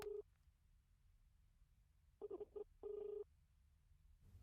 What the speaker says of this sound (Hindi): सर रिंग जा रही है।